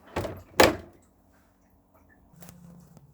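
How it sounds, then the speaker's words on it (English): The door of a 2012 Bailey Unicorn Madrid caravan is pulled shut with two quick clunks, the second heavier, followed by a faint latch click and quiet hum. "I'll pull the door over as we come in"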